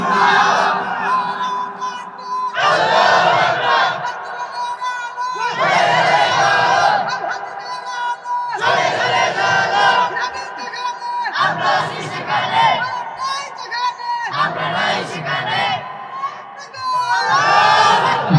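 A large crowd at an Islamic religious gathering roars Allahu Akbar back in answer to a takbir call, loud massed voices shouting in about seven forceful bursts roughly every two seconds.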